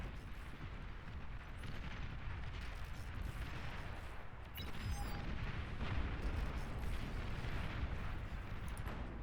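Pop-up plasma artillery fires in the strategy game Beyond All Reason as a dense barrage of rumbling booms and blasts that overlap into a continuous roar and grow louder about halfway through.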